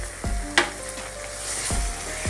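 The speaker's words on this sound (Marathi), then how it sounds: "असं थोडा वेळ टमाटर भाजला ना तर याच्यामध्ये ना हिरवी मिरची ठेचा किल्ला टाकून घ्यायचा" Tomato roasting in a pan with crushed green chili gives a steady sizzle, with a couple of sharp scraping stirs and one brief clatter partway through.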